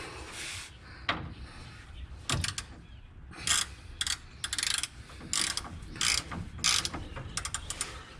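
A ratchet snaps in quick bursts of clicking as it tightens the shock top mount bolt on a Jeep Wrangler YJ, close and distinct, with short pauses between strokes and no talk.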